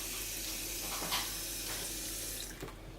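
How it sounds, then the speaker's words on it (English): Steady stream of water running from a tap into a container, a continuous close hiss and splash with no talking over it. "So the tap in a sense just pours out water like so"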